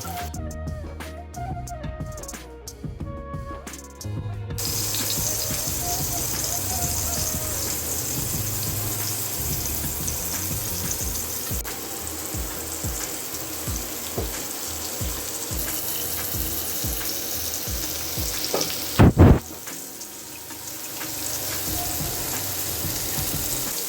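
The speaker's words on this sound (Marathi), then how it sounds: "तांदळाच्या पिठाचं आपण कोटिंग करतो आणि तेलामध्ये आता फ्राय करूया" Surmai fish pieces coated in rice flour fry in hot oil, giving a steady, continuous sizzle that fills the whole stretch, with a short louder burst of spatter near the end.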